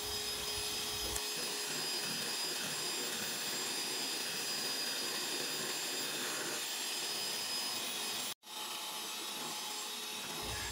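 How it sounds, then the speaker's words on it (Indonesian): A small electric hand mixer whirs at high speed, beating batter for a steamed tape cake, a loud steady drone close up that cuts out for a moment near the end before resuming. "Tetap kita gunakan mixer kecepatan tinggi ya."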